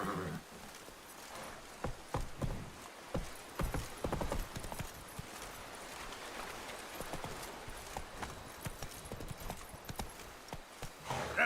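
Roach, the horse in The Witcher 3: Wild Hunt, gallops in a quick, continuous clatter of hooves that stays close and fairly loud, with an occasional snort over ambient game sound.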